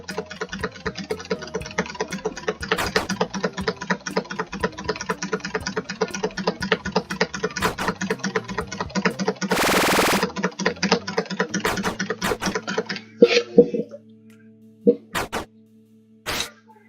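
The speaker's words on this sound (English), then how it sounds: "It's a good way to ruin your keyboard." Computer keyboard keys hammered rapidly during The Escapists prison game, making a loud, dense clatter of fast repeated keystrokes for about thirteen seconds before thinning out into a few scattered clicks.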